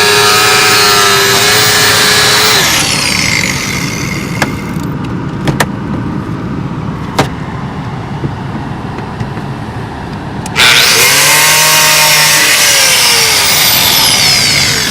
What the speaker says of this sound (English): This fucking angle grinder.